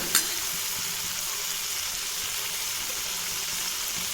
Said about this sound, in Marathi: मसाला छान परतून घेते मी आता आणि मसाल्याला परत एकदा छान तेल सुटलंय आहे